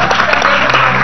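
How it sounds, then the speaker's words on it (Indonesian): Brief burst of steady applause from a television studio audience, dense clapping at close range with no pauses. "Berikan tepuk tangan."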